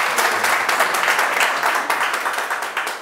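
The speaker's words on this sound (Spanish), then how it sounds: "Un aplauso." An audience at a novel presentation bursts into loud, dense applause, many hands clapping together close by for about three seconds.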